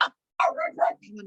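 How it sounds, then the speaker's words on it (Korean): A pet dog barks a few sharp, close yaps indoors, separated by brief silences and trailing into a softer whine at the end. "우리 강아지가 짖네 잠시만."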